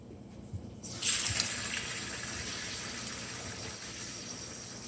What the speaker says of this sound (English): you rinse on the cold water